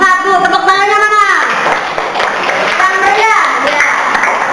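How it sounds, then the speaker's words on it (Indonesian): A classroom of students claps for a presenting group; a voice speaks at the start, then a brisk patter of clapping takes over, mixed with scattered voices. "Ya, terima kasih untuk kelompok 1. Tepuk tangannya mana?"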